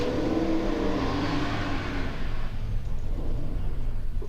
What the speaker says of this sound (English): Turbocharged engine sound and really good.